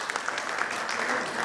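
Audience applause at a keynote session, a dense, even patter of clapping that stays steady and fairly loud for the whole short stretch.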